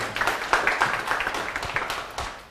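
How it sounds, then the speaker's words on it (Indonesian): An audience at an Indonesian business seminar applauds, a moderate burst of clapping that fades over a couple of seconds with no talk over it. "Oke, tepuk tangan buat Bapak Ibu sekalian."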